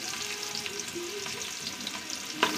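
Onion frying in oil for a chicken curry crackles with a steady close sizzle, faint scrapes of stirring underneath and one sharp clink of utensil on pan near the end.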